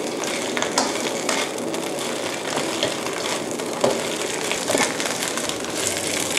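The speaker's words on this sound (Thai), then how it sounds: "เพราะฉะนั้นผัดแค่นิดเดียวก็พอนะคะ ให้ผิวด้านนอกของผักเนี่ยเคลือบน้ำมันก็พอค่ะ" Vegetables stir-frying in oil in a hot pan, a steady close sizzle with scraping and tossing rustles throughout, no talk.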